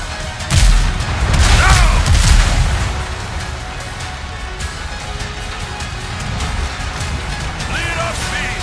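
Ship cannons firing in the naval video game Windrose, a few heavy booms near the start followed by rolling rumble and scattered crackle, with brief voice sounds mixed in.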